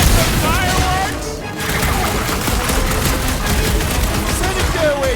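Firework explosions go off during combat in the Guardians of the Galaxy video game, with dense, loud crackling bursts and booms that run rapidly and nearly continuously with no break.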